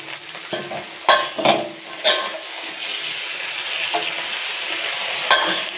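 Bottle gourd greens sizzle in a pan, and a spatula scrapes and clanks against the metal in several sharp knocks. The frying hiss runs steadily underneath, with no voices.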